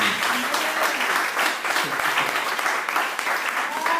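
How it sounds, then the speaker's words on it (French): A church congregation applauds loudly, with dense sustained clapping that fills the room for several seconds and a few voices calling out under it. "Est-ce qu'on peut acclamer très fort pour le"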